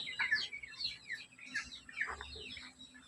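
Chickens in a backyard pen with meat birds and young hatchlings make soft clucks and light chirps, faint and scattered over a low background hum.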